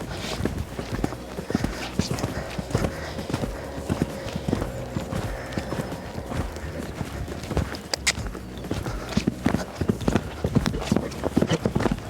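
A pony canters toward an upright jump with poles laid on the ground, its hooves beating a steady, close rhythm on the ground throughout.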